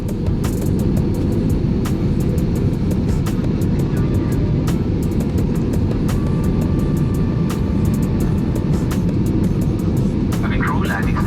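Airplane landing at Ho Chi Minh City, heard from inside the cabin: loud, steady engine and wind roar with no break, with faint cabin chimes and clicks over it.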